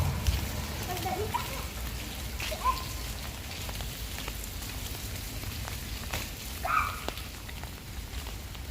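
Rain falls steadily at a children's playground, a soft continuous patter with occasional louder drips, while someone speaks over it.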